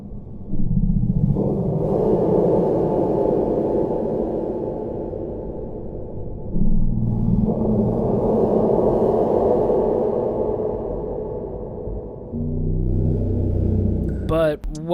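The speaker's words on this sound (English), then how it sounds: "That is the sound of a monster breathing." Deep, rumbling video game monster breathing: two long, slow, heavy breaths, loud and close, ending with a brief warbling sound.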